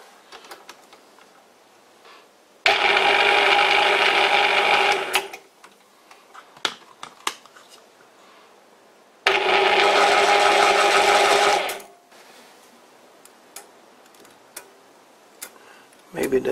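A metal lathe takes two cuts with a new cutting insert, each a loud sustained grinding hiss lasting a few seconds, separated by scattered clicks and clanks of the machine.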